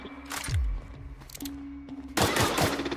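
Shotgun fire in The Outer Worlds video game: two or three sharp blasts with heavy low-end thumps, followed by a denser burst of cracking gunfire near the end, set over a steady hum of game ambience.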